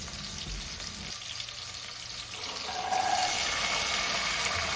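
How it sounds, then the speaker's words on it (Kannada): Onions fry with pulao masala in oil in a pressure cooker, a steady close sizzle that grows louder and brighter partway through, with no talking. "ಇವಾಗ ನಾನು ಕುಕ್ಕರ್ ಇಟ್ಟು ಅದಕ್ಕೆ ಸ್ವಲ್ಪ ಎಣ್ಣೆ ಬಿಟ್ಟು ಪಲಾವ್ ಮಸಾಲ ಜೊತೆಗೆ ಈರುಳ್ಳಿನ ಸೇರಿಸಿ ಹಾಗೇ"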